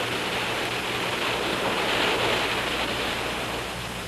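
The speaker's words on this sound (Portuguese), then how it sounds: "Hoje, as ondas vêm do Nordeste." Ocean surf rolls in from the northeast onto a beach, a steady broad wash of breaking waves with no voices and a gentle swell in loudness midway.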